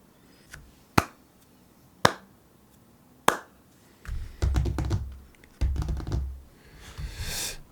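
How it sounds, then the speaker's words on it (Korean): A computer keyboard picked up by an Elgato Wave Neo microphone: a few isolated sharp key strikes, then two bursts of rapid, clattering typing, close and clear with no one speaking. "타이핑 소리가 얼마나 들어가는지 제 목소리에 비해서"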